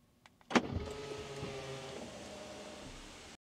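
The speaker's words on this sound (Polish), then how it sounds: "przy zamknięciu samochodu zasuwa roletę" A Range Rover Sport 3.0 D 2024 rear roller blind closes automatically as the car locks: a sharp click, then a steady, quiet electric motor whir lasting about three seconds before stopping.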